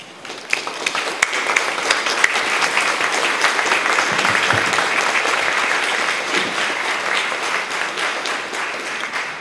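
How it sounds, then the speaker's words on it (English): A large audience at a Medal of Honor ceremony applauds the research committee, with sustained, dense, even clapping for about nine seconds and a few sharper claps standing out. "let's give them a round of applause"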